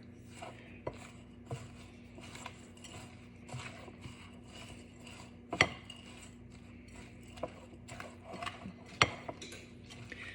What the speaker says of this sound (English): I'm going to mix that up with one of my mix and stirs here